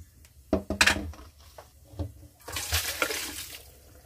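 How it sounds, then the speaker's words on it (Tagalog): Cooked noodles for beef pares mami are rinsed in a kitchen, with splashing water, a few knocks of a pot or colander, then a rushing pour as the water drains away. "Saglit lang natin siyang huhugasan. Tapos, i-drain natin siya agad."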